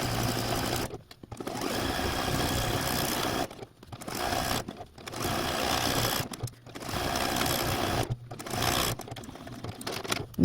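A sewing machine stitches a quilt in dark brown thread around a small circle, running in steady bursts broken by several brief pauses, loud and close throughout.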